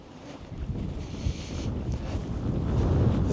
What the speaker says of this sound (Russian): Немножко поковырялись, но ветрюган такой.